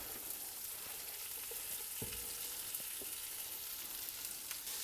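Fennel and onions sweat in butter over high heat, giving a faint, steady sizzle with a few soft clicks of stirring throughout and no talking.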